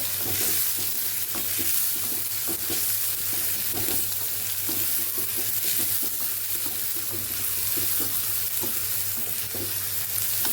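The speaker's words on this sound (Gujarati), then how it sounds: "ડુંગળીને આપણે સાંકળી લેવાની છે" Onions frying in hot oil with cumin and asafoetida give a steady, close sizzle throughout, broken by soft scrapes and stirring, with no talking.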